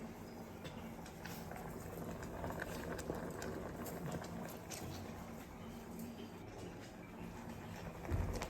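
Pot of chana dal and moong dal simmering on the stove, giving a steady low bubbling wash with faint patter that holds evenly throughout, with a slight thump near the end.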